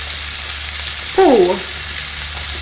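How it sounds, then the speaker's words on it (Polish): Bacon crisping in a pan as a steady broadband sizzle, briefly topped by a short voiced word near the middle. "Boczek się przypieka"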